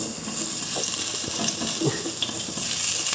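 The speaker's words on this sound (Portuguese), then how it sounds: "Deixa o alho dourar um pouco." Garlic frying in olive oil, a moderate sizzle and crackle with occasional light stirring clicks, no talking.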